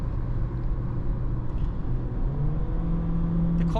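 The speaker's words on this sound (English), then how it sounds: "The car just quickly, I don't know, revs up" The CVT engine of a 2026 Honda HR-V Sport drones steadily from inside the cabin, rising gradually in pitch as it revs up under road noise.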